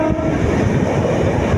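Train passing close by amid foggy countryside on a Thane to Jalgaon route, a loud steady rumble of rolling wagons with faint rhythmic rail clatter, no talking.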